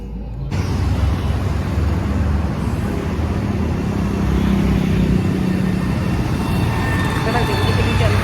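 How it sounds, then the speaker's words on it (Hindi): A car pulls out into busy street traffic, with steady road rumble from passing vehicles and motorbikes close by, and people talking over the continuous noise. "वो आदमी गाड़ी निकाल रहा है।"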